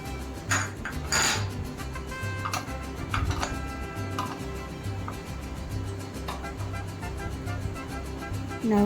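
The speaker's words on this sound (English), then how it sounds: "Now give it a quick mix." Mustard seeds, urad dal, fennel, fenugreek and spices being mixed in a pan for Sri Lankan egg gravy, clinking and scraping of a spoon against metal with a few sharp knocks, close, over steady background music.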